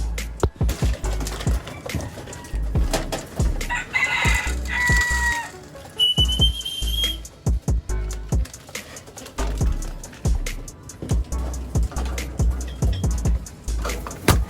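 Breeder chickens cluck and crow close by while being fed, with sharp bursts of wing flapping and scuffling scattered through a steady, busy stretch of poultry noise.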